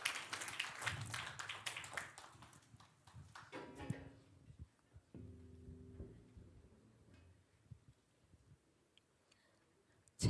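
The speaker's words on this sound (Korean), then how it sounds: "박수." Faint, brisk clapping from a church congregation during a Sunday service, a quick patter of hands in the first few seconds that fades into quiet room sound with a few stray knocks.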